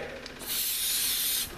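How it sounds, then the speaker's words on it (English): A spray can hisses steadily into an old engine for about a second, loud and close, with no talk over it. "Can you possibly give that a spritz and film doing it?"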